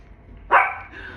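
A small dog gives a single sharp bark, close and clear after a moment of near quiet, with a faint tail of sound trailing off.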